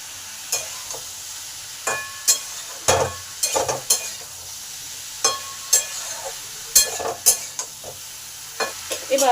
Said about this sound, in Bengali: ঝিঙের সাথে আলুগুলোকে ভালো করে মিলিয়ে দিলাম।